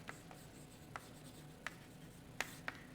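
Chalk writing on a blackboard in a lecture room, faint scattered taps and short scratches over a quiet room hum.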